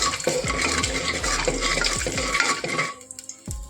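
Whole cumin seeds frying in hot oil, stirred with a utensil that scrapes and clinks against the pan in quick, rhythmic strokes, close up and fairly loud, with a soft sizzle underneath.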